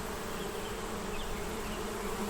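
Honey bees from an open hive on frames of brood, honey and nectar hum in a dense, continuous drone, close and steady without pause.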